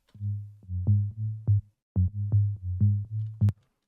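Layered sine-wave synth bass in a track, played clean without sine fold distortion: a run of round, smooth low notes in short rhythmic bursts with a brief pause midway, alone and fairly loud.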